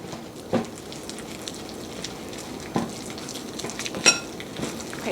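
A keto fathead pizza dough with a little garlic is worked together in a bowl. A few soft scraping and clinking knocks of a utensil sound against a quiet background, with no talking.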